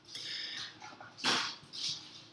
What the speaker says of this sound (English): It's just the dogs coming through the house.